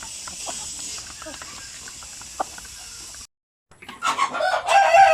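Hens, including a brooding hen, clucking and murmuring close by with scattered sharp calls, then a brief silence followed by louder, busier clucking and squawks.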